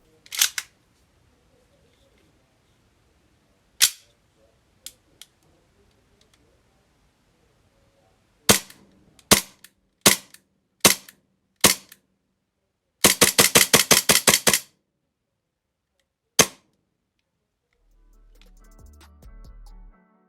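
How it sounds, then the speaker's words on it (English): An AW Custom HX25 Hi Capa airsoft pistol cycles with sharp, snappy clicks, first as single shots spaced by silence, then as a quick rapid burst, close and crisp, with a faint low rumble at the end. "we want to give you a quick demonstration of how the gun cycles so you can hear just how snappy it is"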